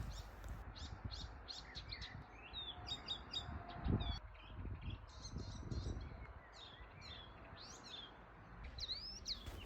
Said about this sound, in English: So I woke up to this bird sound and I've never heard it before.